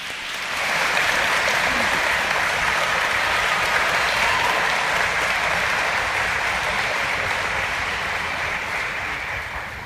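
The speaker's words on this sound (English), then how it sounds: "please give us a round of applause for Morgan." Sustained audience applause at a 2019 senior awards ceremony, a dense, even wash of many clapping hands that swells in after a second and holds steady at full strength through the end.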